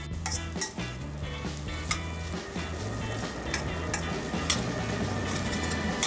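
Chow mein noodles being stirred in a hot pan with a big spoon, a steady sizzle with repeated scraping strokes and light metallic clinks, close and continuous, no voices.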